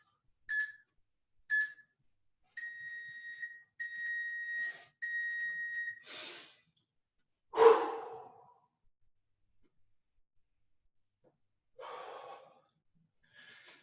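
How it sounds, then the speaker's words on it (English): An electronic workout beeper sounds in short, bright tones: two quick single beeps followed by three longer sustained beeps, then heavy breaths and gasps in a quiet room with pauses between them. "let the beeper go, just keep it from distracting me"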